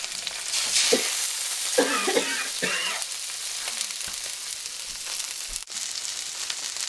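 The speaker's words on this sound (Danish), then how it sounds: "tuna steaks i lidt olie. Og de skal bare lige stege sådan" Tuna steaks frying in a little oil in a pan, a continuous close hiss and sizzle with a few brief scraping stirs and bumps along the way.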